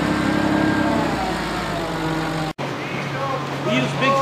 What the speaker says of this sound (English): Driving a forklift is a big part of this job.